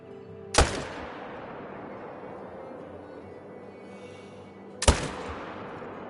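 Rifle shots in the hunting game The Hunter: Call of the Wild, two sharp loud cracks about four seconds apart, each followed by a long fading echo over quiet outdoor ambience.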